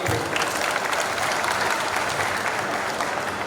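Loud, steady applause from the audience at a Viksit Bharat Sankalp Sammelan political gathering led by MLA Karnail Singh, a dense continuous wash of many hands clapping without pause.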